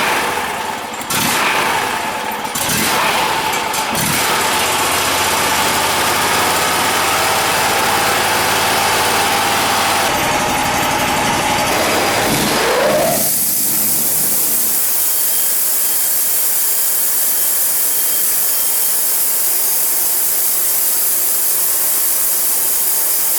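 An engine-driven sawmill bandwheel doing a dry run makes a loud, steady mechanical drone. The drone starts with a few knocks, then shifts partway through to a lighter, smoother whirring that continues to the end.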